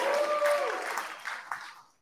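An audience at a short live talk cheers and applauds together, a burst of clapping and shouts that fades out within two seconds.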